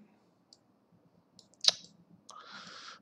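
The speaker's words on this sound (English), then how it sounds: "holding clicked Alt and left clicking the mouse and dragging" Sharp computer mouse click around the middle, with a few faint earlier ticks, followed by a broader rustling noise, in a quiet room while working in the Thief 3 level editor.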